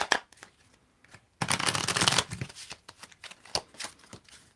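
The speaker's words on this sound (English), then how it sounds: "tell me when to stop shuffling" A tarot card deck being shuffled by hand close up: a quick riffle burst followed by scattered dry card slaps and flicks, no talking.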